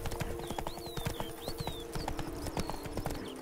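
Roach the horse from the game Witcher 3 clip-clops along at a steady walking rhythm. The hoofbeats are close and clear, with birds chirping through the whole stretch.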